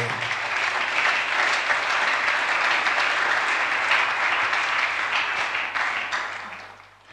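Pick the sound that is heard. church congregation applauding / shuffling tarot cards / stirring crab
church congregation applauding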